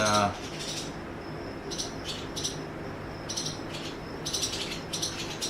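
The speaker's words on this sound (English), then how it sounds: "we got birds in my house" Birds chirp inside a house, bright bursts of tweeting recurring every second or so over a steady low indoor hum, fairly close and moderately loud, with no talking.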